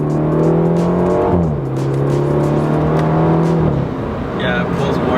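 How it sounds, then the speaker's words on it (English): A Stage 1 flash-tuned BMW 330i F30 drones steadily, its engine tone dropping as the revs fall, and sharp exhaust burbles and pops crackle over it, heard close from inside the car while people talk. "Oh yeah, there's definitely more burbles."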